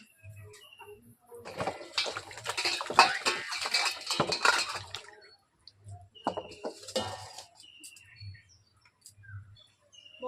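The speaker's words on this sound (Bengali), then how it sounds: "ওই আমগুলোকে আমি প্রথমে জলের মধ্যে ধুয়ে নেব" Raw mangoes are washed by hand in water, with splashing and clinking against a metal pot or bowl in two bursts, the first longer and busier, while birds chirp softly in the background throughout.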